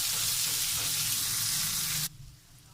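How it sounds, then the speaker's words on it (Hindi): Chapli kebab frying in a pan gives a loud, steady sizzle with a dense hiss. It runs alone for about two seconds, then drops sharply to a quieter background. "अब हम इसको भी तकरीबन 3 मिनट के लिए इस साइड को भी हम फ्राई करेंगे।"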